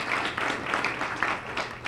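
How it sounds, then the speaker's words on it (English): A round of applause from an audience at a tech inclusion summit, with steady dense clapping and no gaps, holding fairly even for the whole stretch. "So I want to give them a round of applause for their efforts in this summit."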